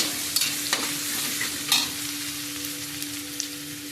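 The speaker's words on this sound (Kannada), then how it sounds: "ಇದು ಚೆನ್ನಾಗಿ ಫ್ರೈ ಆಗಲಿ" Paneer masala fries in a pan with a steady, close sizzle, broken by a few soft scrapes and taps as it is stirred.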